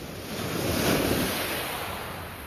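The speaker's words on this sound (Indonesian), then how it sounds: "Nih, lu bisa lihat ombaknya." Ocean surf washes in at night, a broad, steady roar of breaking waves swelling slightly and mixed with wind buffeting the microphone, heard from a short distance.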